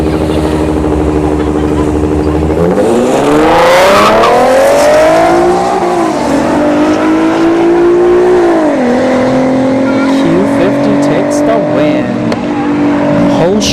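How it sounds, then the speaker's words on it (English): A Porsche Panamera Turbo and an Infiniti Q50 launch down a drag strip at a test-and-tune session, engines roaring loud and close as they climb through gear changes, the pitch dropping and rising again as they pull away. "Panamera Turbo versus the Q50 on the left."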